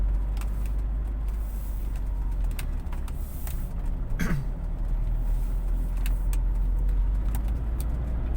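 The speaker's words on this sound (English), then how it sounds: "over the speed hump we go." A car cabin fills with a steady low road rumble while the car rolls over a speed hump, marked by a single brief thump partway through.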